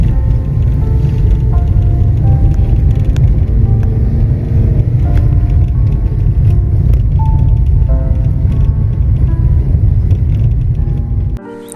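A car crawls in first gear up a narrow mountain road near Campillo de Ranas in Guadalajara, Spain, its low engine rumble steady and close throughout, then dropping off at the very end.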